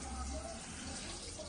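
A kitchen tap runs while a child washes dishes, a soft, steady stream of water splashing into the sink with faint low clatter and no clear speech.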